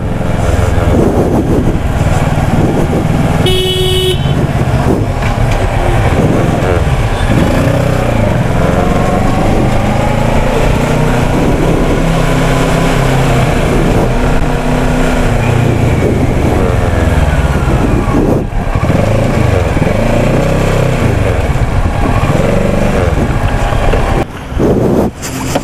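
A motorcycle engine runs continuously and loudly on a mountain road ride from Narkanda to Kalpa toward Spiti Valley, its drone overlaid with heavy wind buffeting on the microphone throughout.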